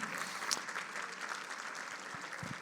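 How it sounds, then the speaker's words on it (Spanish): A church congregation applauds to give glory to God, a soft, fairly distant patter of clapping that runs briefly and steadily throughout. "dale un aplauso de gloria al Señor"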